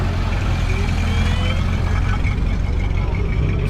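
Vintage Ford Model A club cars pulling out at an outdoor car show, a loud, continuous engine rumble close by with a voice talking over it.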